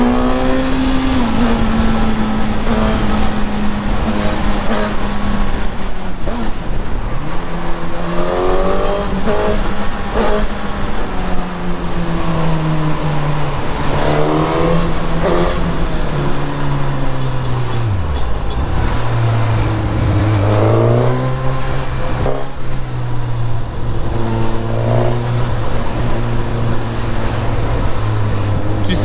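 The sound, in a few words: Suzuki GSX-S 1000 motorcycle accelerating on ring road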